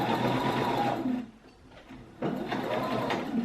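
Close and loud, a sewing machine stitches around the curved edge of a fabric face mask, its rapid mechanical whir pausing briefly in the middle before starting up again.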